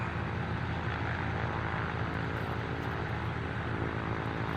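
A simulated propeller aircraft engine in Microsoft Flight Simulator 2024 drones steadily at taxi power, a loud, even hum with a constant low buzz and no breaks, heard alone.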